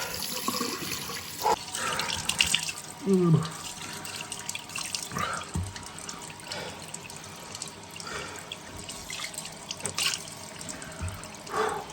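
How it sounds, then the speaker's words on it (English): High-pressure tap water gushes steadily into a container during a plumbing job, a continuous rushing hiss with a few clunks and splashes, while someone talks briefly over it. "Oh, let that fill up. God, water pressure is incredible here."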